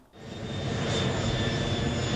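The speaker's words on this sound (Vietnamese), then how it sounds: "Trong tiếng động cơ máy bay gầm rú" Airplane engines roar at a military airfield as soldiers are flown out. The loud, steady drone swells within the first second and then holds, with no talk.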